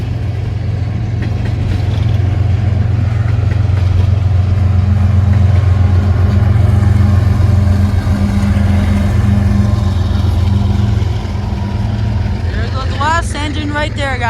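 The tail end of a BNSF empty coal train rolls past, a loud, steady low rumble and roar that holds throughout and begins to ease near the end, where a voice briefly comes in.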